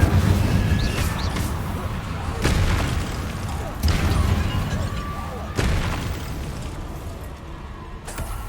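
Incendio fire spell blasts in Hogwarts Legacy: several dull booming bursts about a second or two apart, set against a constant loud game background with someone talking.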